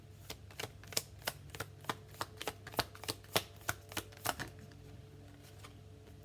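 Tarot cards being shuffled and drawn, a steady series of crisp, close card snaps and riffles, about fifteen sharp clicks in quick rhythm, with no talking.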